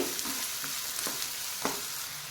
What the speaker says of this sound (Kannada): ಈಗ ಕರಿಬೇವು ಸೊಪ್ಪು ಮತ್ತು ಈರುಳ್ಳಿ ಚೆನ್ನಾಗಿ ಫ್ರೈ ಆಗಲಿ